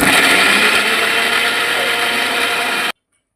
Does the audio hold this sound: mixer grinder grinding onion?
yes